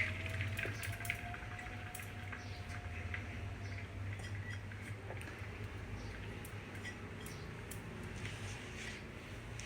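Water running from a tap while washing in a home kitchen, a faint continuous splashing trickle with light dripping sounds throughout.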